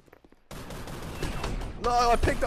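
Sudden rapid gunfire erupts in an Oculus Quest 2 VR shooter video game, a dense crackling volley that keeps going and swells near the end, with a voice faintly audible under it.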